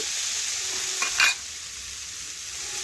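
Potatoes and pointed gourd fry in oil while being stirred with salt, a steady close sizzle running throughout with a brief scraping stir in the middle and no voices.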